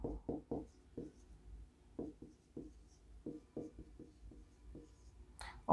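Marker or chalk scratching out a binary tree diagram on a board: a run of short, close strokes in quick bursts with brief pauses between them, heard alone without talking.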